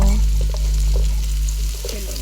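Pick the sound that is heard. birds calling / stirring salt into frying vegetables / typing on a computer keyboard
stirring salt into frying vegetables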